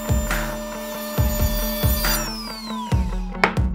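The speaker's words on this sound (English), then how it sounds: "So let's go ahead and get this piece cut, and we'll move over to the miter box." Hand saw cutting a walnut board in a miter box, a series of rhythmic rasping strokes, roughly one every half second to second, close and clear with no talk.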